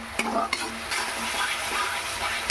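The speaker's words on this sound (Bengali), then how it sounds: "এইভাবে কিছুক্ষণ ওই মশলাটাকে নাড়াচাড়া দিয়ে কষিয়ে নিতে হবে" Spice paste for a pomfret curry is stirred and fried in a pan. A couple of sharp utensil knocks open a loud, continuous, crackling sizzle.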